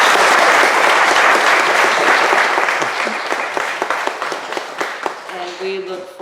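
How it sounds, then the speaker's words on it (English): An audience at a community meeting applauds, dense clapping that starts strong and thins out over several seconds, with voices starting up at the very end. "So let's give a big round of applause."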